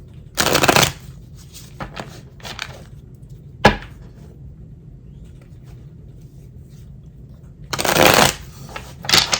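A deck of tarot cards is shuffled in quick riffling bursts at the start and end, with light taps and a sharp knock between, close up.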